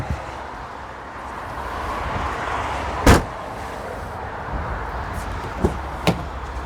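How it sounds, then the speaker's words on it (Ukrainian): The door of a 2020 Opel Crossland unlatches with a sharp clunk in a quiet interior, followed by a couple of softer clicks. "Двері так приємно відкриваються"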